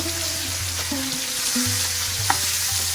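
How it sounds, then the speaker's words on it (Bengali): A piece of freshly caught barracuda fish fries in hot oil in a pan, a steady close sizzle with a low hum and a few soft clicks, no voices. "তো মাছটা আমার এক পিস লাল লাল করে ভেজে নিচ্ছি।"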